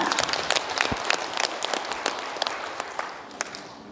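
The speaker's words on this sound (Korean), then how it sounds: "큰 박수로 모시겠습니다." At a Gyeongsangbuk-do Confucian groups' ceremony, the crowd claps to welcome the provincial governor onto the stage: close, lively applause with sharp individual claps standing out over the general roar, sustained throughout without talk.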